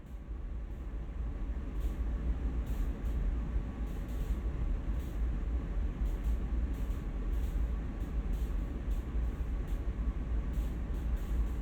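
Heavy CSX freight train in the Train Sim World video game, a steady low rumbling drone with faint rhythmic hissing pulses as the air brakes apply, no voices.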